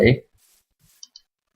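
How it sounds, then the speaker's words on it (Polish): Two quick, crisp mouse clicks spaced a beat apart, heard alone in near silence after a short burst of speech, while glass panes are placed in Minecraft. "muszę was przeprosić za to klikanie, ale nie chcę, żeby mi jakaś szyba źle wyszła"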